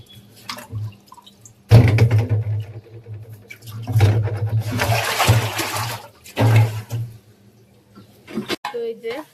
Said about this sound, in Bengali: তো এই যে মাছ ধুয়ে নিছি